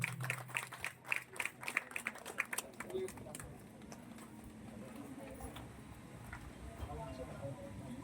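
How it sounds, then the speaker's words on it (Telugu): A crowd gives a short burst of scattered clapping at a constituency gathering honouring students selected for IIIT seats. The applause is fairly faint and fades after a few seconds into a murmuring room. "చప్పట్లు కొట్టున్నాను."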